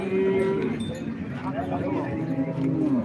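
Cows moo loudly and repeatedly, close by, over a steady bustle of voices and livestock noise at the Modnimb cattle market.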